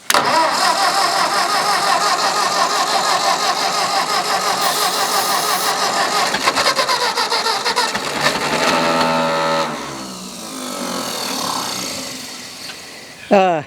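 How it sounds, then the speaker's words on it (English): An old Ford farm tractor engine cranks over loudly and continuously for about ten seconds, a dense churning roar that then drops away, followed by quieter mechanical sounds and a short burst at the end. "Might crank me. Yeah. It's gonna fire."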